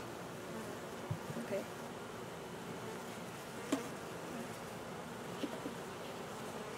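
A steady, low buzzing of many bees during removal of a colony from under a front window, with a few brief louder passes close by.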